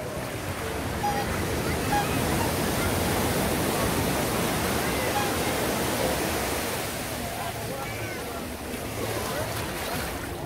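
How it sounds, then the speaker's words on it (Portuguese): Sea waves at Prainha beach in Arraial do Cabo roll and wash steadily in a loud, continuous surf roar, close by, with no talking over them. "Escuta o som do mar."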